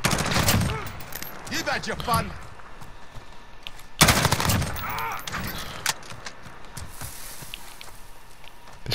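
Gunfire in Call of Duty Modern Warfare: bursts of rapid automatic fire in two loud clusters with scattered single shots after, while a voice talks over it.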